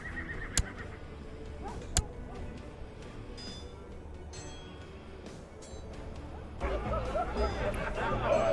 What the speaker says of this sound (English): The impatient stomping of horses accompanies the excited cries from the spectators.